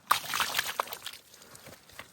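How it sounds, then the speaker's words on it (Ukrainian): Water splashed and sloshed over a carcass during butchering, a few quick wet splashes followed by softer trickling, close and moderately loud. "Чуть води, смив сюди."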